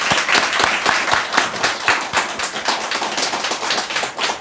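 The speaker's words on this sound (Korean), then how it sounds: "박수." A church congregation applauding during a Sunday service missionary commissioning, dense, steady clapping from many hands, close and continuous throughout.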